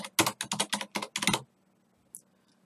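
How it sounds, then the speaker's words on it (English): Rapid clattering keystrokes on a computer keyboard, about a dozen close, crisp clicks in quick bursts, then silence with one faint click near the end. "and we're going to type hello world."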